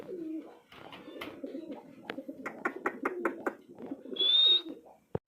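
Pigeons at a breeding farm, including a red and a yellow bird, coo close by in a run of short throaty calls mixed with sharp chirps, ending with a brief high whistling note.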